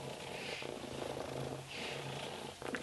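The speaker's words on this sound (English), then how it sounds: "Can you hear the purr on her? She's so loud." A pet cat purring loudly and close by, a steady rumbling purr that swells in two long breaths with no talking.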